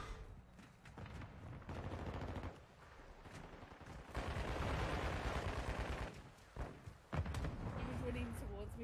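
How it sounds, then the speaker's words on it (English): Gunfire in a first-person shooter video game, with shotguns and riot shields in play: dense bursts of rapid shots and thumping blasts in rough clusters, with a voice talking over parts of the action. "He was running towards me, so I shot his feet."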